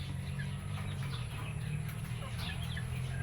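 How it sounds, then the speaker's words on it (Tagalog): A sick gamecock, a four-time winning broodcock suffering from a severe cold, clucks faintly and repeatedly over a steady low hum on a farm. "So ito na mga ka-farm yung gagamutin natin na manok."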